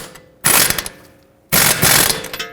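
A wrench snugs up a front lower control arm bolt on a 2012-2017 Toyota Camry, two loud bursts of metallic ratcheting clicks, each about a second long, separated by a short pause, close and with no talking.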